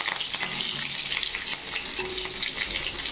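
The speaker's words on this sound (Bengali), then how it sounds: "কারি পাতাটাকে হালকা ভেজে" Curry leaves and garlic frying in hot oil for a South Indian brinjal dish, a dense, continuous crackling sizzle that stays loud and even throughout, close up and without speech.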